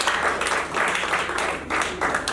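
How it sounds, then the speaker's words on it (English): Burst-like clapping from the audience at a pension operations training event in Lagos, coming in short uneven waves with brief dips between them. "Please, let's give them a round of applause here."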